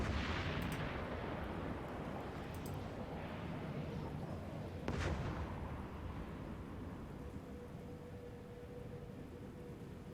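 In the space game EVE Online, a muffled explosion booms over a continuous low rumble of ambient noise, with a few sharper cracks around it.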